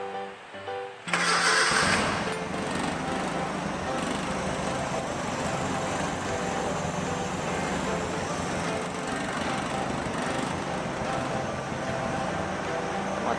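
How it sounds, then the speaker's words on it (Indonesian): A small engine is cranked and catches after about a second of quiet, then runs loud and steady at a constant idle-like drone for the rest of the stretch, close by and alone. "Pertama-tama kita nyalakan engine ini dulu. Kemudian kita start."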